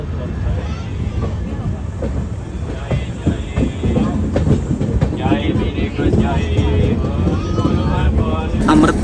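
A passenger train hauled by a WAP5 electric locomotive on an Amrit Bharat Express, heard from inside a coach: a steady, loud rumble of running gear with rattles and clatter, and people talking over it throughout.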